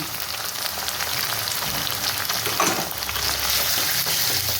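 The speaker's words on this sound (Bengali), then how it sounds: "টমেটোটা দিয়ে ভালো করে একটু নাড়াচাড়া করে নিতে হবে" Chopped tomato with salt frying in a pan for chicken fry biryani, a steady close sizzle under continuous stirring and scraping, with no pause.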